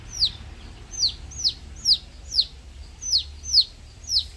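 High, thin peeping chirps from baby chicks repeat steadily about twice a second, close by, over a low background hum.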